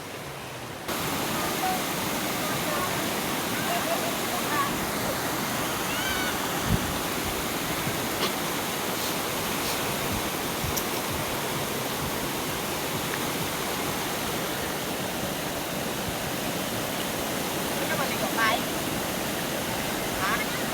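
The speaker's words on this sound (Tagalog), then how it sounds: "Maganda na ang maganda na ang bagsak ng tubig." Falling water roars in a steady, dense wash at an outdoor swimming spot, loud and continuous throughout with no pauses.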